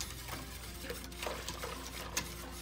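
Gelatin mixture with powdered gelatin is stirred in a pot, a soft, close scraping and swishing that runs continuously with faint clinks against the pot.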